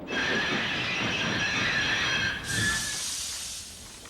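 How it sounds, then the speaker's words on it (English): Thomas the Tank Engine's steam locomotive brakes in the countryside squeal with a high, sustained metallic tone, then a sharp hiss of released air takes over and fades. "In the countryside, Thomas's brakes sound like this."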